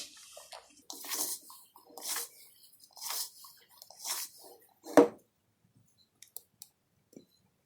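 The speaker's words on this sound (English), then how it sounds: "Sprinkle the water in here and just tilt the pan and do this." Water is sprinkled onto cooked rice in a pan while rice balls are shaped for Moni Kalama, heard as soft, close splashes in repeated bursts with a sharp knock near the middle and faint clicks after.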